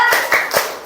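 A group performs a rhythmic spirit clap at the close of a gathering, three sharp, close claps spaced evenly in quick succession with no talking.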